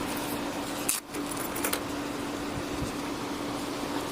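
Car keys jangle in a couple of brief metallic rattles during a roadside police stop, over a constant hiss of outdoor noise.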